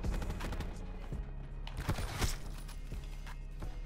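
Gunfire in Black Ops 4, a sniper rifle with the Locus among the weapons in play, cracks out amid a busy firefight, with several sharp shots and impacts over constant game noise.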